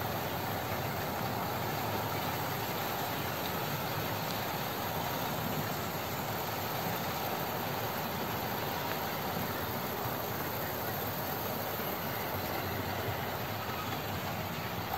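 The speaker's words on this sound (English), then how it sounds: "you can see all 10 trains going round" A model railway layout with ten trains circling through hills and tunnels produces a steady, continuous rolling hum and whir of wheels on track, even and unbroken throughout with no voices.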